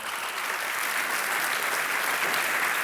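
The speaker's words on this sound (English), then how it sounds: "please, a round of applause for our panelists" A panel audience on the energy transition, marking the Paris Agreement's 20th anniversary, gives the panelists a round of applause: dense, steady clapping from a crowd, fairly loud and even for the whole stretch, with no break or voices on top.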